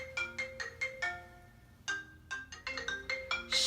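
A phone's electronic ringtone plays a quick melodic pattern in short bursts, repeating after a brief pause, fairly quiet.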